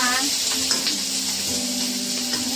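Tomatoes sauté in a pan with a loud, close sizzle and some stirring, while a voice hums or talks faintly over the cooking for the short stretch.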